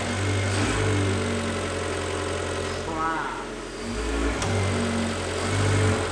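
A car engine cranks, fires and idles with rough revving after a rebuild, running loud and close throughout while people talk over it.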